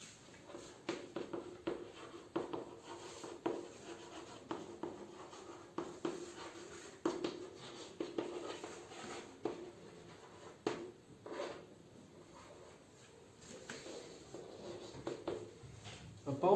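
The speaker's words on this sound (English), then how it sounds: "I'll write it down" Pen writing on paper during a maths lesson, a soft, steady scratching and rubbing that comes and goes in short strokes, fairly faint and close, with no talking over it.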